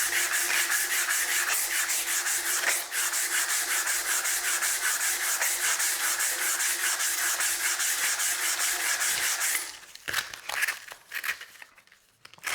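Abrasive paper at 120 grit rubbing on chestnut wood spinning on a lathe, a steady close-up sanding hiss that runs continuously for most of the clip before breaking off into scattered quieter rubs near the end.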